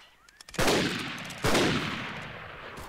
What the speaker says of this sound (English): Ready for volley fire! Fire!